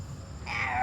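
A frog gives a single brief croak, close by and moderately faint, lasting under a second.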